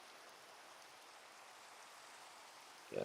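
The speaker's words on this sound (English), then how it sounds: "When it's raining." Steady rain falling in the Minecraft video game, a soft continuous hiss of drops holding even and moderately close throughout, with a brief louder low thump right at the very end.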